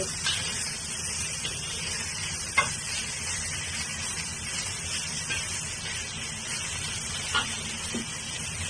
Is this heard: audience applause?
no